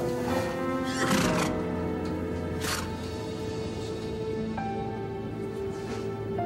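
Horses whinny and neigh in a stable, loud repeated calls over a steady background with occasional hoof clops, no talking.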